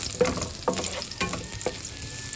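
Garlic sautés in a pan with a steady sizzle, while a utensil scrapes and stirs four times in a rhythmic pattern.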